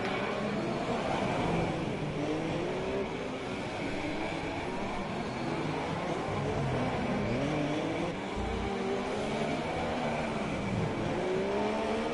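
Race cars in the FlatOut racing video game lap the Monaco street circuit, a steady whine of high-revving engines rising and falling in pitch as the pack drives on continuously, loud and close with no talk.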